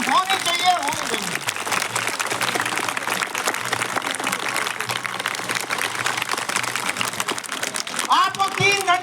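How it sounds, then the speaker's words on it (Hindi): Loud, sustained applause from a crowd at a school annual function in Delhi fills the whole stretch, dense clapping with a few voices at the start and end. "उसी तरीके की जोरदार तालियां आपकी होनी चाहिए"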